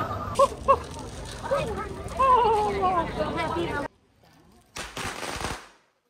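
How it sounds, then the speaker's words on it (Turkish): Firecrackers burst at the Phuket Vegetarian Festival, a few sharp, close pops rising over a busy street crowd and voices, then a short lull before another dense rattle of bangs. "Her yerden patlama sesleri, çatlama sesleri geliyor."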